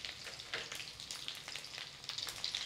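Garlic sizzles in hot oil with mustard seeds and cumin, a steady crackling fry with faint stirring and small pops, close and fairly quiet with no talking.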